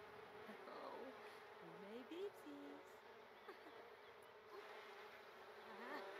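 Bees buzz steadily around a lemon tree outdoors, a continuous close insect drone with a few brief louder passes, while a person talks faintly underneath.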